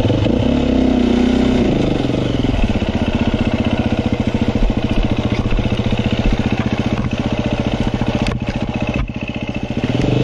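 A KTM enduro motorcycle engine runs close and loud throughout, with a rapid pulsing idle and slight revving, plus some mechanical clatter.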